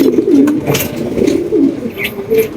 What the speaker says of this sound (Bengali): ব্লু বার্লেস লাহুরি কবুতর